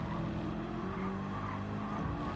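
A GT1 race car in a sim racing game at Kyoto, sliding on worn soft tyres: a steady, loud engine drone with tyre scrub running throughout, without pause.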